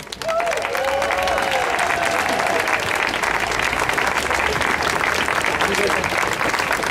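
A rally crowd applauding to welcome a speaker at a religious freedom event in San Francisco, with steady dense clapping throughout and a brief voice audible over it at the start.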